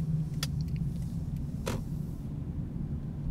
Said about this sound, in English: As cars go by